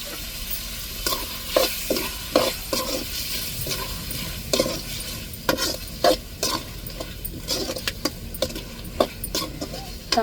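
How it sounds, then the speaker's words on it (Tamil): Tomato, onion and chili sauté in a pan for a crab gravy, a steady sizzle broken by repeated scraping stirs and clinks of a spoon against the pan at an uneven rhythm. "தக்காளி வெங்காயம் மிளகாய் லைட்டாக வதங்கி வரட்டும்."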